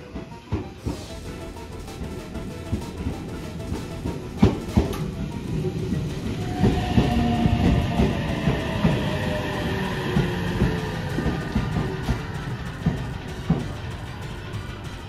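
A JR Chūō Line special rapid train bound for Inakita on the Iida Line pulls into platform 3 at Nakatsugawa Station, its rumbling approach, rail clatter and squealing brakes rising to a steady close roar.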